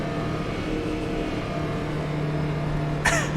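Race car engines in Automobilista 2 at Daytona drone steadily at a constant pitch throughout, a close continuous engine tone with a brief louder sweep near the end.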